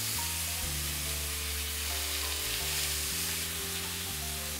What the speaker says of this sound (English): Searing hot pan, and I am literally just going to pop the tuna steaks